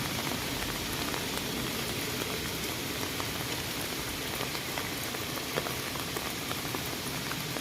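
Heavy rain pours steadily, a dense continuous hiss of drops on surfaces with scattered sharper splashes, no talking.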